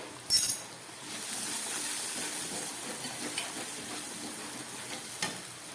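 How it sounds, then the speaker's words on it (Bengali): A spice paste of turmeric and Kashmiri chili powder sizzles steadily in hot oil, with a soft continuous frying hiss, one sharp clink of a utensil at the start and another faint knock later. "এবার একটু হলুদ দিয়ে দিচ্ছি, আর দিয়ে দিচ্ছি একটু কাশ্মীরি লঙ্কার গুঁড়ো"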